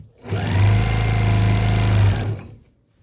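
A sewing machine fitted with a walking foot stitches through a thick quilt in one steady, loud, humming run of about two seconds, starting and stopping cleanly with no talking.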